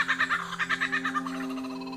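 A lyrebird in a forest imitates a kookaburra call: a rapid run of pulsing, laughing cackles over a steady low drone, fading into a sustained tone.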